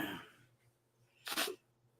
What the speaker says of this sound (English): the cat sneezed on me